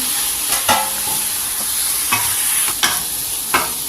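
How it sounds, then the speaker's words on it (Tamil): Kadai chicken fry with ginger and garlic sizzles loudly in a pan while a spoon stirs it, scraping strokes landing every second or so over a constant bright hiss, close up and without talk. "எல்லாமே போட்டு நல்லா கிளறி விட்டுக்கலாம்."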